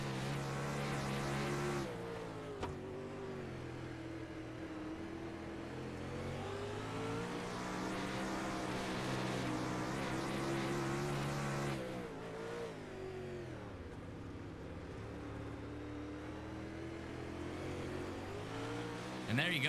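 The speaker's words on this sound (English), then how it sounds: "you can definitely hear that throttle response. I'll turn up the engine volume, crank it up a little bit." A race car engine in the iRacing sim racing game drones steadily with sharp throttle changes, rising and falling revs and a brief dip before picking back up, with a voice talking over it.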